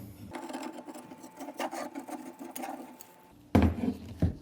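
Threaded metal pipe fittings on a homemade pull-up bar are turned by hand, giving a close, gritty rasping and rubbing in short strokes, ending in a louder metallic clunk.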